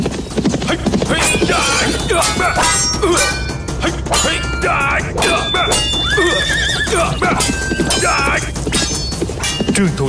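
Horses neigh and whinny repeatedly amid galloping hooves and clashing weapons in a battle between generals at the Như Nguyệt River, a loud, dense and continuous din.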